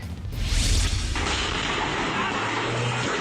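A fireworks warehouse explosion in Cabuyao, Laguna erupts with a deep boom, followed by a sustained roaring, crackling blast of debris and fire that stays loud throughout.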